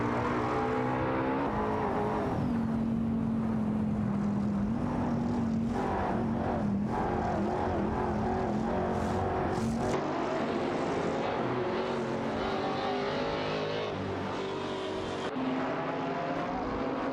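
Race cars including a Porsche 911 997 Turbo and Lamborghini Murcielago SV in a racing video game, a loud continuous engine drone with rising and falling revs and gear shifts, several cars blending together without talk.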